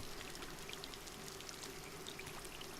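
Water in the dark exploration game Scanner Sombre gives off a soft, steady pouring, trickling wash. It stays quiet and continuous throughout, with faint droplet-like ticks and no voices.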